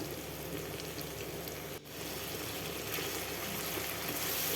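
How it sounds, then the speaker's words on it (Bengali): Mustard and poppy seed paste sizzles steadily in a pan, a dense, even hiss with a brief dip partway through and no talking. "আবারও একটু ভেজে নেব সরিষা পোস্ত।"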